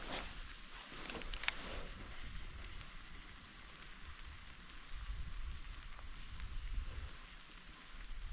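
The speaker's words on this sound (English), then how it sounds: "Nice rainy day on the lake." Rain falls on a lake as a soft, steady hiss of drops, faint and even throughout, with a couple of brief taps near the start.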